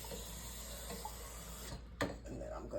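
Cool tap water runs from a faucet in a home kitchen, a faint steady hiss that stops partway through, followed by a few soft clinks and handling sounds.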